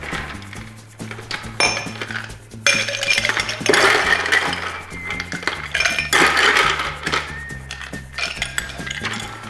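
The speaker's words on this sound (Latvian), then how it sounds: "Mēs izmantojam highball glāzi, kuru pildam ar ledu." Ice cubes clatter and clink into a highball glass in bursts, with bright ringing knocks over a low steady hum in the background.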